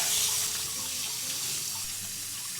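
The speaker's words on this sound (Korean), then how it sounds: "찬물에 한번 씻어주겠습니다." Cold tap water runs steadily over brown rice noodles being rinsed in a kitchen sink, a continuous close splashing rush with no talk.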